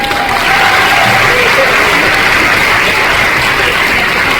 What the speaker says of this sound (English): Ben needs a special round of applause